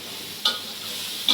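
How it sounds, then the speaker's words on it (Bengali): Small mushrooms sizzle steadily in a frying pan as a utensil stirs them, giving two brief scraping strokes over a constant crackling fry. "মনি এটা লাড়া দে শুভ্র।"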